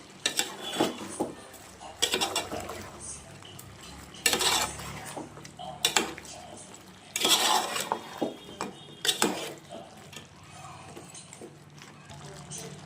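A spoon clanks and scrapes inside a metal pot while village chicken curry with turmeric and salt is stirred, sharp irregular knocks standing out at close range amid softer scraping.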